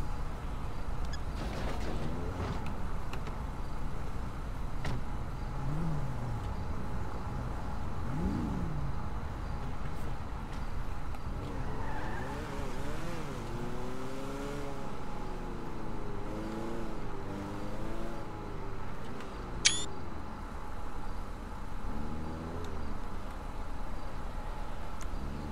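A car in a GTA roleplay video game drives along with a continuous engine drone that rises and falls as it revs, moderately loud and steady, with one sharp brief high squeal near the end.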